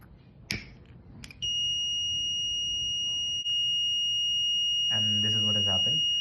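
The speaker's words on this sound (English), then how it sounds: "the alarm bell is going to ring" An alarm on a smart air quality manager built around an STM32 Blue Pill board sounds after a few clicks. It gives a loud, steady, high-pitched electronic tone that holds without a break, and a voice speaks over it near the end.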